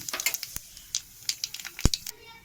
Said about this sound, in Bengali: গরম হয়ে গেছে, আমি কালো জিরে দেওয়া হলো ফোড়ন